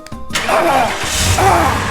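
A car engine cranks over with the ignition key and catches, then settles into a steady, close running idle that carries on alone with no talk.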